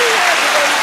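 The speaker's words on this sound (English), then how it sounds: "Big round of applause." A brief burst of thick, close applause from a morning audience, loud and even for under a second.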